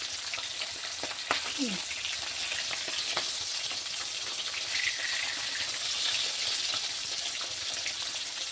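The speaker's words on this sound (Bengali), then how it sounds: "মাছ ভাজা তো হয়ে গেছে" Fish sizzles steadily in hot oil in a pan, a continuous close frying hiss with a few brief clinks and stirring sounds, mostly without talk.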